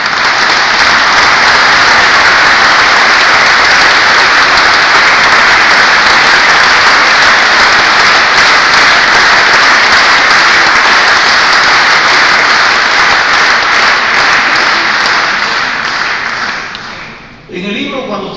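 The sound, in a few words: audience applause at a conference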